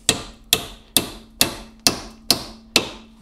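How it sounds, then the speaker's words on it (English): Metal on an electric golf cart's battery tray, a 2001 EZGO TXT 36-volt, being bent down with a hammer: seven sharp, evenly spaced strikes about half a second apart, loud and close with short ringing decay, no talking. "Now I'm just going to bend that down,"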